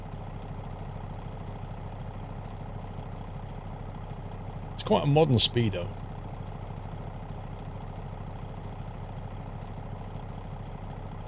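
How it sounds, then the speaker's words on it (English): A truck engine idles with a rough, steady low rumble throughout, while someone speaks briefly over it near the middle. "I'm not enamored by the truck sound, by the engine. It sounds a bit rough."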